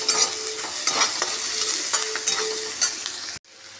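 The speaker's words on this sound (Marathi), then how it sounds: "कांदा भाजला की मसाला टाकून घेते." Onion frying in a pan for a mutton dish, with a loud continuous sizzle and irregular spatula scrapes and stirring knocks, heard close up until it cuts off abruptly near the end, with no voices.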